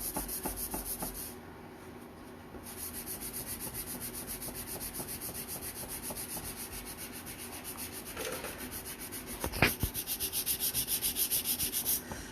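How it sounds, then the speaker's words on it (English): A Dixie Belle sanding sponge wet-sands a piece of furniture on an industrial-style night stand, producing a steady, close rubbing and scrubbing that runs almost continuously, with a brief softer lull and a sharper scrape near the end. "I'm just going to wet sand this flush with my piece"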